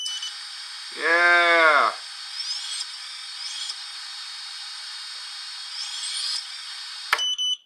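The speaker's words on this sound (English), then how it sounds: "it's beeping because the receiver's not turned on" Short high-pitched electronic beeps chirp at intervals over a steady whine, with a brief spoken word near the start.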